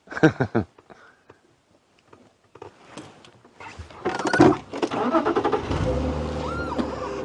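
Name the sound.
car passing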